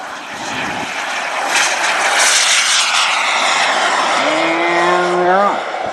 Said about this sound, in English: it looks like we got a jet ready to take off here